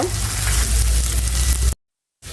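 Six or seven dried red chillies fry in a pan for beef kala bhuna, producing a loud, dense, continuous hiss that cuts abruptly to silence before resuming briefly.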